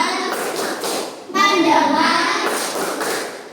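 Schoolchildren in a sixth-grade primary classroom clap a counted rhythm, sharp hand claps in short groups mixed with children's voices chanting along, fairly close and loud.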